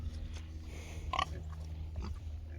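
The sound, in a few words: pigs grunting on a farm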